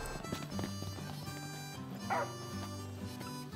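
Umbra, a dog in Final Fantasy XV, gives a few short barks and a brief whimper over steady in-game background music, close and moderately loud.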